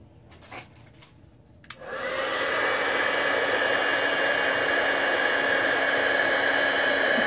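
After a few quiet clicks, a heat tool switches on to melt embossing powder, blowing with a loud, steady whooshing roar like a hair dryer, continuing without a break.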